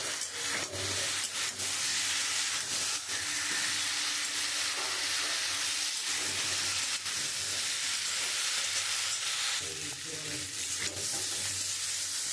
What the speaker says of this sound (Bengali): আমি মশলাটা দিয়ে ভালো করে কষিয়ে নেব।